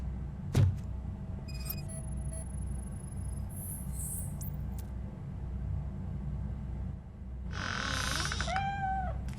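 A cat meows in RoboCop: Rogue City, a PlayStation 5 game: a rising, wavering call near the end over a steady low rumble of game ambience, with a few brief tones and chirps earlier.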